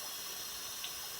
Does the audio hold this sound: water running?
yes